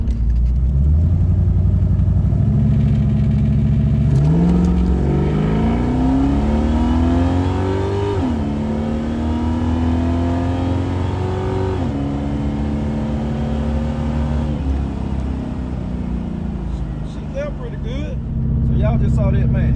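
A Buick Regal drag car on slicks roars through a hard full-throttle pass, the engine climbing through gear changes, loud and sustained from start to finish.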